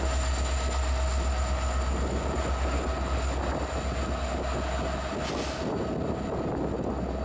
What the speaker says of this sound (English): Great train. Would have been cool to see all of it.